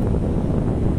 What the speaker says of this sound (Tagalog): kahit break time ngayon sa umaga, pero medyo mangin-hangin pa rin